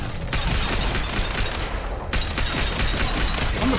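Rapid, dense gunfire in a Mass Effect 2 firefight against Geth on Insanity difficulty, loud, continuous bursts of shots with crackling impacts and no pauses.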